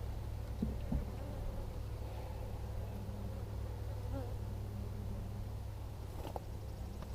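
Honey bees droning around a hive being inspected outdoors, a steady low buzz that holds evenly throughout with a few faint clicks and knocks.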